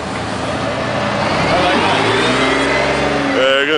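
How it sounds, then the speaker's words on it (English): A Lamborghini passes at a bus parade, its engine revving hard and rising in pitch as it draws close, loud and continuous, with voices chatting over it. "there goes the Lamborghini, eh?"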